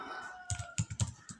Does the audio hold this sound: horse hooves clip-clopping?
no